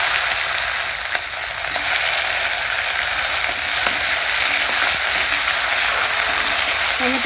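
Nigella seeds tempering in hot leftover oil from frying pomfret, a steady dense sizzle and crackle with faint clicking pops, continuous and close with no voices.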